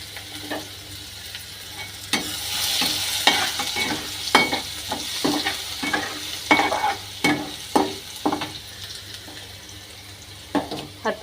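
Garlic frying in hot oil for a bitter gourd kara kuzhambu, with a steady sizzle under repeated sharp scrapes and clicks of a spoon stirring through the pan.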